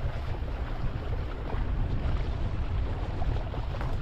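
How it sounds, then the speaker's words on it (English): Wind roars over choppy water during a boat ride on Lake Atitlan, Guatemala, a constant loud rumbling wash of wind buffeting and water slapping, with no voices. "it was some really choppy water on this day here because of the wind"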